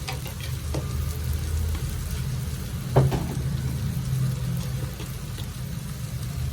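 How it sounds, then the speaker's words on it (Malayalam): Chili powder frying in hot oil for soya chunks pirattu, a steady low sizzle with a brief sharper crackle near the middle, close and continuous with no talk. "എണ്ണയെല്ലാം തെളിഞ്ഞു വന്നു ഈ പൊടി ഇട്ട് കൊടുക്കാം മുളക് പൊടി ഒരു ഒന്നര സ്പൂൺ ഇടാം"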